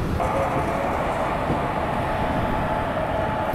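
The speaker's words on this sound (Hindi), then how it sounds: "अब भाई ट्रेन जो है वो निकल चुकी है विशाखापट्टनम की तरफ" A train hauled by a locomotive pulls away toward Visakhapatnam on a line beside India's largest salt water lake, giving a steady, loud, unbroken rumble and rolling roar throughout with no talk.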